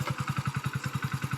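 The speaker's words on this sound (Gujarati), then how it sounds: "બાઈક આવ્યો." A motorcycle engine idling close by, putting out a steady, even chug of rapid low pulses with no speech.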